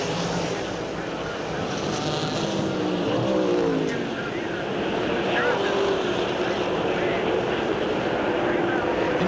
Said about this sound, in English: And Baldwin getting a lot of work there from an Oldsmobile in front and an Oldsmobile behind him